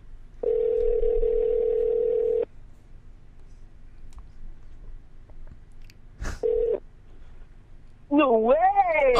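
An outgoing telephone call rings back: one steady tone lasting about two seconds, a long pause, then a brief second burst, followed by voices talking loudly.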